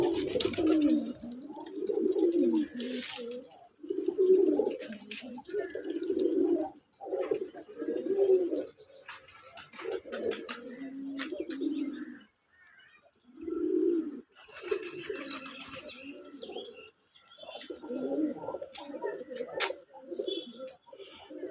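Pigeons coo at a pigeon farm in repeated low, throaty phrases separated by short pauses. The birds sound close and clear with no voices over them.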